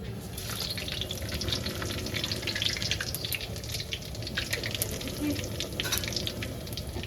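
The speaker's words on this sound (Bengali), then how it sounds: "ফোড়নটা আমি একবারেই দিয়ে দিই তেজপাতা গোটা দিলে শুকনো লঙ্কা" A tempering of whole bay leaves and dried red chillies fries in oil for mutton curry, giving a continuous crackling sizzle mixed with watery kitchen noise throughout.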